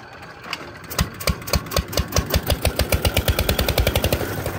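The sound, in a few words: boat engine starting on Brahmaputra river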